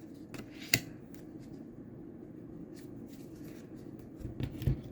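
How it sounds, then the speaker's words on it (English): Tarot cards being drawn and shuffled for a reading, soft intermittent papery flicks and riffles close by in a quiet room, with a slightly louder handling burst near the end. "I'm going to pick a couple cards here."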